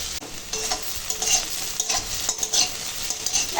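Potato pieces frying in hot oil in a pan while being stirred, a steady close sizzle with scraping stir strokes throughout and no talk.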